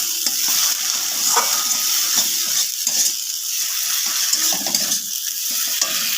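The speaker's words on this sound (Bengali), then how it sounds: "একটুখানি নেড়ে চেড়ে নেব।" Kashmiri chili and turmeric masala frying in a pan while being stirred for macher jhal, a steady close sizzle with scraping spoon strokes throughout, no talk.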